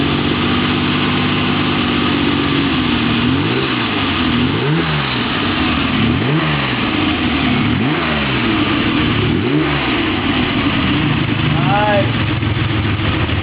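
A Ferrari Lusso engine revs repeatedly just after start-up, a close, loud series of rising and falling blips over a rumbling idle, with voices talking briefly around the revs.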